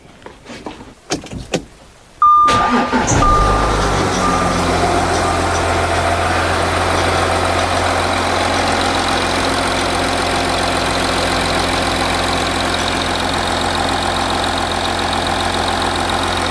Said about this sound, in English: so now let's start the engine.